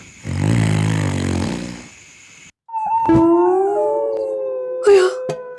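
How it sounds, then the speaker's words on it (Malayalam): Dogs howl at night, one long drawn-out howl followed by a second dog's wavering howl, loud and close with a short gap between them and no talking. "ഈ പട്ടിയൊക്കൊന്നും ഉറക്കമില്ലേ?"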